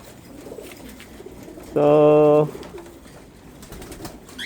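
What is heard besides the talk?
birds cooing in loft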